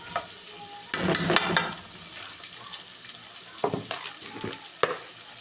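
Carrots fry with a soft, continuous sizzle in a pan, broken by close clattering scrapes of a utensil stirring them, including a strong burst near the start and lighter taps later.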